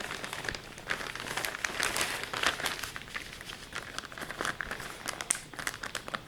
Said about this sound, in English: So I fold the paper towel in half with the seeds inside.